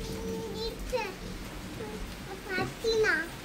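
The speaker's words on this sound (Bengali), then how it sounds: "ওই দেখো তোমায় দিচ্ছে বৃষ্টিটা" Steady rain falls in the background throughout, a soft continuous patter beneath a voice and a young child chattering nearby.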